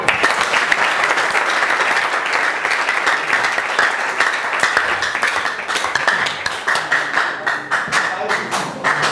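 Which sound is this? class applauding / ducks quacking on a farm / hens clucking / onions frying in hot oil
class applauding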